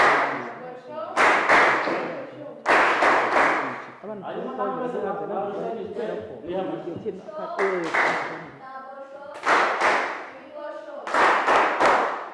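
Children clap their hands in several loud, sharp bursts at a gathering in Rwanda, each lasting about a second, with a voice speaking in the gaps between rounds.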